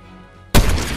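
A single sharp blast of gunfire from Fortnite erupts after a quiet, humming stretch, loud and close, with a broadband crack that rings out briefly.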